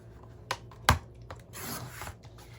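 Cardstock being cut to 5 1/4 inches for stacked envelopes: a sharp snap of the blade, then a soft, steady rasping slide across the sheet, close and quiet with no talking.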